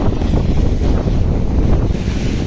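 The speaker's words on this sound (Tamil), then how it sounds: "சரியான அடியாக இருக்குது கடல்" Rough, roaring surf in heavy rain near Jaffna, with heavy wind buffeting the microphone, a continuous churning wash of waves with no voices.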